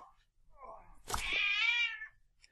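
Close-up, a cat lets out one drawn-out, rising meow after a brief soft thump, with faint talk around it.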